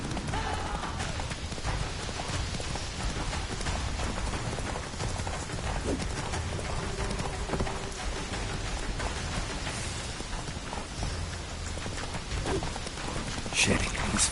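Horse hooves clip-clop at a gallop in a video game, a steady rapid beat with rain-like noise and game sounds around it.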